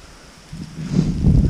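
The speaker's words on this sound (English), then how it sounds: "sorry for the wind, guys." Wind gusts buffet the microphone over a flooded corn field in South Dakota, low rumbling bursts that build and grow louder through the second half.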